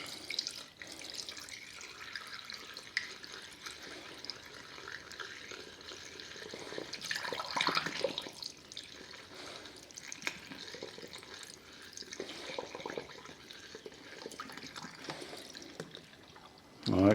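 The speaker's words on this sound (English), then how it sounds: "And just slowly pour the cleaner in it." Radiator cleaner poured slowly into the radiator of a Honda GL1500 Goldwing motorcycle during a coolant flush, a soft continuous trickle and gurgle with someone talking faintly over parts of it.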